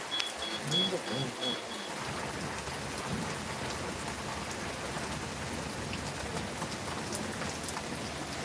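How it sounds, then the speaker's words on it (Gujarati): Steady heavy rain hisses down continuously in Surva, with a few faint voices near the beginning. "આ વરસાદ પડે"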